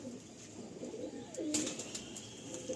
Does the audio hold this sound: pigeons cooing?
yes